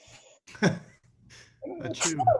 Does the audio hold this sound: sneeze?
yes